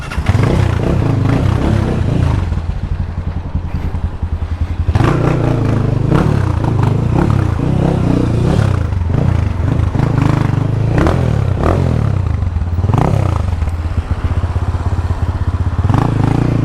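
A 150cc motorcycle engine revs loudly and repeatedly during a bike-life ride in Jamaica, the pitch climbing and dropping in quick bursts with a steady rough idle between pulls, close to the listener and with no talk.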